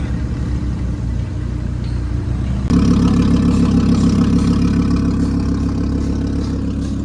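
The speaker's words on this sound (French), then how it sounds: "Le ralenti est vraiment violent" Porsche GT3 engine idling close by, a steady, loud low rumble that swells noticeably heavier partway through and then holds a rough, throbbing idle.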